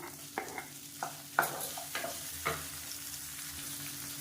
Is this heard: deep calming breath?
no